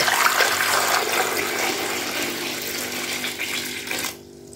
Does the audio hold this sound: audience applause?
no